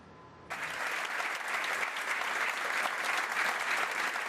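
Loud, sustained applause breaks out suddenly and continues steadily at a FC Barcelona farewell ceremony attended by club directors, teammates and family.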